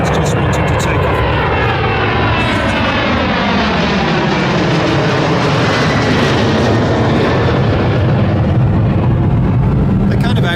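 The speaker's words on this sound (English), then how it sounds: "there's a plane that's just wanting to take off" A fixed-wing airplane takes off at Las Vegas airport, its loud engine roar steady and close, filling the whole stretch with a broad, rising drone.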